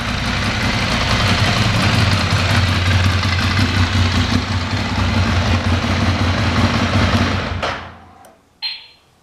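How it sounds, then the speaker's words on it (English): A motorbike with a decat exhaust pipe idles loud and close for about seven seconds, its deep throbbing rumble steady, then cuts off abruptly, followed by a short sharp click. "As you can hear, for standard exhaust, that decap pipe makes a whole world of difference compared to the standard bike."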